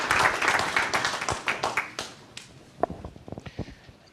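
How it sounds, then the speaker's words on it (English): Applause at a veterans treatment court graduation, a modest group clapping that starts fairly full and thins within a couple of seconds into scattered, sparse claps and a few taps. "So a round of applause for Stephanie Anderson and Joe Gross"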